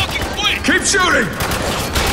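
Gunfire in the shooter game Spec Ops: The Line, dense bursts of rapid shots layered with battle noise while a soldier's voice shouts over the fighting.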